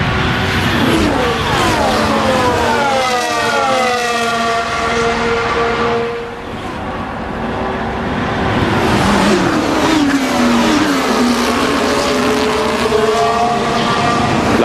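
Formula 1 cars racing in the Belgian sprint, engines howling loudly and continuously as several cars pass, pitch sweeping up and down through gear changes, with a commentator's voice faint underneath.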